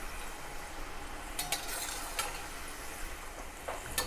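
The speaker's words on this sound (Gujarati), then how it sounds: "આપણે અહીંયા ગોલ્ડન બ્રાઉન થાય ત્યાં સુધી આપણે તળવાના છે, એટલે એકદમ ક્રિસ્પી થશે" Cashew namak para deep-frying in oil until golden and crisp, a soft continuous sizzle with a few brief stirring clinks and scrapes, no voices.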